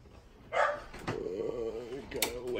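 Dogs barking indoors in a house, a couple of loud sharp barks near the start followed by whines and yips, mixed with nearby speech throughout.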